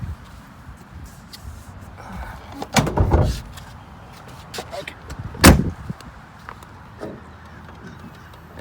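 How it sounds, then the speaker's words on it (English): A 1991 BMW M-Technic convertible has its hood released and lifted, giving two sharp clunks of the latch and panel a few seconds apart, with faint handling noises and a brief spoken word between them. "Let me pop the hood."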